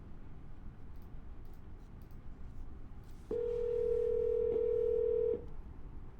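A telephone line gives a single steady tone lasting about two seconds after a soft click, with faint background hiss before and after and no talking.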